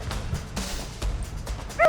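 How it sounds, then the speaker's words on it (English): A few short alert barks and yips from hunting dogs, fairly faint and slightly distant, scattered over a brief stretch of outdoor background noise during a wild boar hunt in South Africa. "Whenever we heard an alert bark,"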